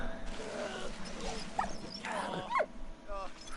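A dog in the Valiant Hearts video game gives a few short yips and whimpers, faint and scattered over background game audio, while someone talks over it.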